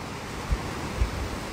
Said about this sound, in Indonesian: Ombak pun besar.